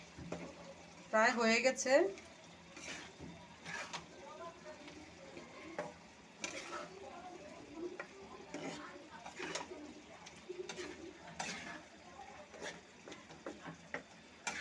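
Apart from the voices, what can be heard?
stirring small fish chachchari with coriander leaves in a pan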